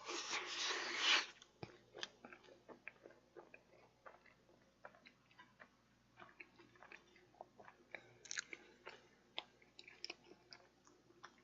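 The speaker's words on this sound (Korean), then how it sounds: "저번에는 요거트 소스 찍어 먹어볼게요" Close, quiet chewing of pizza dipped in yogurt sauce, with a scatter of soft wet bites and clicks, after a brief loud rustle at the start.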